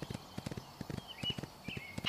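Horse hooves clip-clop steadily in the Windstorm video game, a string of close, even footfalls with no talking, and a faint bird call drifts over them.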